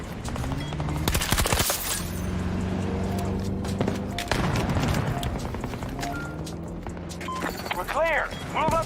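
Bursts of video game gunfire with different ammunition types, rapid automatic fire and booming shots, while a person talks over the action.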